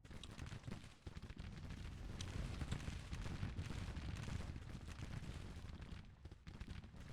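Musket gunfire in a Grand Tactician Civil War game battle, a continuous rattling crackle of many shots blending into a dense, distant roar with occasional sharper reports.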